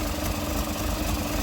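A Toyota 2015 Prado with the 1KD-FTV diesel engine, running a decarbon flush with the inlet manifold off, idles with a steady, loud, broadband rumble throughout.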